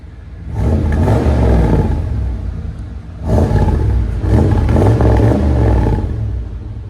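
A 1994 Chevy 1500 pickup's 5.7L V8 with a Flowmaster 40 Series exhaust revs hard in two loud, deep rumbling bursts, dipping briefly between them, with no talking.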